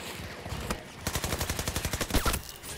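Rapid automatic gunfire from the Battlefield 2042 Dark Protocol event, a steady burst of closely spaced shots with a few louder cracks near the end, firing from close range with no talking.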